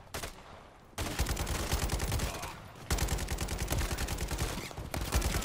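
Sustained automatic gunfire firing armor-piercing rounds in Call of Duty Modern Warfare 3, in two long rapid bursts split by a short pause, loud and close with crisp rhythmic cracks over a heavy low rumble.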